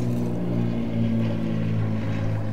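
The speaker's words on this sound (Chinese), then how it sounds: "哇，飞机也多" An airplane flies overhead, a steady low droning hum with a propeller-like tone that stays constant and fairly loud throughout.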